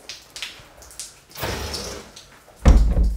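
An old door in an abandoned house in the Belgian countryside being opened: faint creaks and rattles build into a longer scraping sweep, then a loud close thud and rumble at the end, with no talking.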